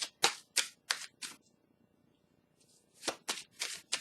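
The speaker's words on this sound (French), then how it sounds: "je vais piger une petite carte" Tarot cards are drawn and shuffled from a deck in a series of quick, close papery riffles and flicks, four bursts in a row, a pause, then four more.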